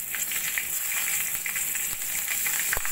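Nigella seeds and two slit green chillies tempering in hot oil for an ilish fish dish, a steady close sizzle with faint crackles, ending in a sudden cutoff.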